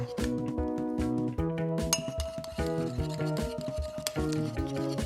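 Slime ingredients stirred with blue food dye in a bowl, giving repeated close clinks and taps of a utensil against the bowl in an uneven rhythm.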